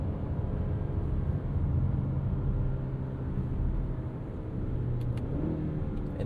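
A 2026 Mazda CX-5 crossover in manual mode blips its engine to rev-match a downshift on a soaking wet road, a steady mid-pitched engine drone with a gentle rise in revs heard from inside the cabin.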